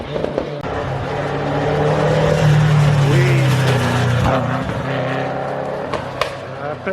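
A Vauxhall Astra rally car, front-wheel drive, climbs up out of a hairpin on a snow rally stage, its engine revving loudly and close by, with shifting pitch as it strains up the hill.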